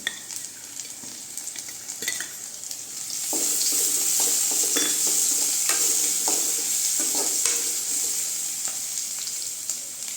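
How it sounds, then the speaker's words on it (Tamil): Onions being sautéed with ginger garlic paste for an oyster mushroom gravy, with a steady loud sizzle of frying and repeated stirring scrapes that swell louder midway and hold, no voices. "வெங்காயம் வதங்கிடுச்சுங்க இஞ்சி பூண்டு பேஸ்ட்டு சேர்த்துக்கலாம்"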